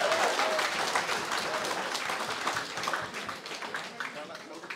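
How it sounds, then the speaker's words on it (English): Wedding reception guests applaud together in a hall, a continuous wash of clapping that gradually fades, with some voices mixed in underneath. "I think that deserves a round of applause"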